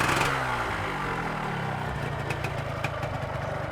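A motorcycle engine, likely a Yamaha RXZ two-stroke, revs briefly and then settles into a steady mid-pitched idle, heard close by with no talking over it.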